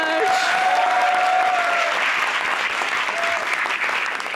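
Studio audience applause fills the room as a guest named Shazeal Shoukat is welcomed onto a comedy talk show, steady and loud throughout, with a host's voice briefly rising over the clapping.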